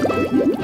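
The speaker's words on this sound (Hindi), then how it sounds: "पहली, हम पानी लेते हैं और इसे उबालते हैं।" Water bubbles and gurgles in a pot as it is poured and brought to a boil for a homemade soup, a few quick rising glugs close up and fairly loud with no voices.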